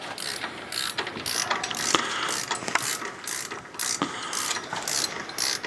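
Ratchet wrench removing the head bolts from an engine, a repeated series of quick clicking bursts at close range, steady and rhythmic with short pauses between strokes, with no talking.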